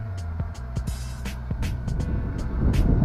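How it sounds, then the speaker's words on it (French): An XK X350 drone flies outdoors in wind, its motors giving a harsh grinding, rubbing hum with a rough throb and repeated short clicks, and the noise grows louder and rougher toward the end. "c'est comme un bruit de frottement de moteur"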